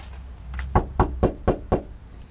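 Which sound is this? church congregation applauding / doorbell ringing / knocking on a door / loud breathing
knocking on a door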